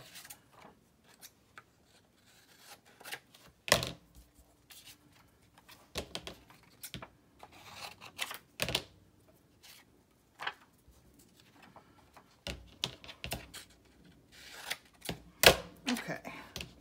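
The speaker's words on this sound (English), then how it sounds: "Let's just cut these tags out." Paper gift tags being cut out with scissors for a Christmas craft project, giving quiet, irregular snips and rustles close by, with occasional louder crisp cuts and paper handling.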